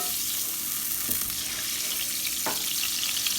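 Green tomatoes frying in a shallow layer of oil over medium-high heat, a constant close hiss with a couple of brief pops or knocks, no voices.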